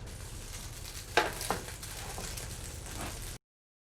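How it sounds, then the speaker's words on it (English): Scotch eggs hot from a 450-degree oven sizzling steadily, a soft continuous crackle with a few sharper pops near the start, close by and moderately quiet. "You can see they're sizzling and hot."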